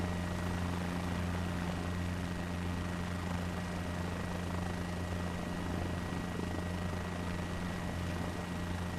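A helicopter in Microsoft Flight Simulator 2024 drones with a steady, loud rotor and engine hum, constant and unbroken throughout with no voices over it.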